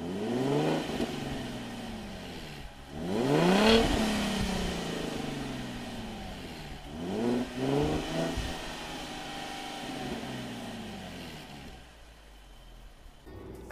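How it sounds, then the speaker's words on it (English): A stock 2015 Ford Mustang V6 engine revs up and settles back several times, with rising and falling sweeps over a steady idle, fairly close. "This is the way the car sounded before BBK Shorty Headers on a complete stock setup."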